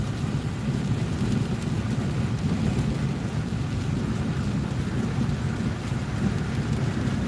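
Rain falls during a car ride on a wet day, a dense, steady roar of rain and rumbling road noise that stays constant and loud throughout, with no voices.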